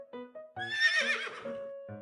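A braying donkey, used as a sound effect in a children's story, brays in a loud, harmonic call of about two seconds that breaks into short bursts, with no voices over it.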